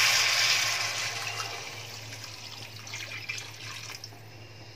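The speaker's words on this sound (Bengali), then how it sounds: "এবার জল দিচ্ছি।" Water pours steadily into a pot of mung dal with vegetables during cooking, loudest at the start and then thinning to a softer trickle with faint splashes, with no voices.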